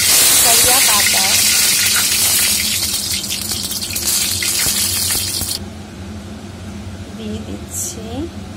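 Cumin seeds and curry leaves crackle in hot oil for a vegetable chop, a loud, dense sizzle that drops to a softer hiss partway through, with a voice talking over it.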